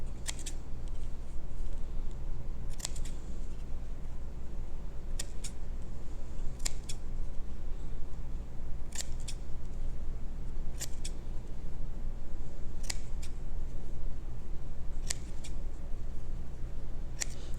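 Scissors snipping through an old T-shirt, a series of short crisp cuts spaced a second or two apart over a low steady room hum, close and clear.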